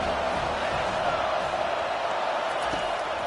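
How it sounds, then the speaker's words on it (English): A large stadium crowd at an Oklahoma State vs Penn State football game roars in a dense, steady wash of cheering and noise, with no clear individual voices. "This crowd bringing the energy and noise early."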